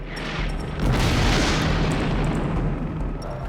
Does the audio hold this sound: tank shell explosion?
yes